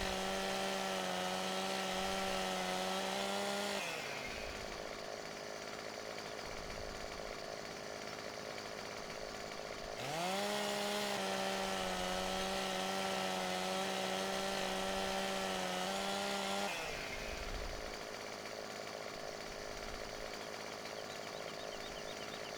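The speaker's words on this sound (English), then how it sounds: "Trouble with the old chainsaw, it's so loud." A chainsaw in the video game Farming Simulator 2017, on the Strappenbach map, roars loud and close, climbing to a high steady rev for several seconds, dropping to a rougher lower drone, then revving up again in repeating cycles.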